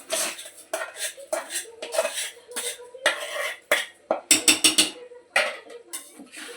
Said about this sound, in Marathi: आपण तांदूळ परतून घेऊया.